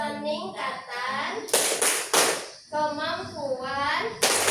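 A voice talks, interrupted by short bursts of a group clapping together in a quick rhythmic pattern, twice, fairly close.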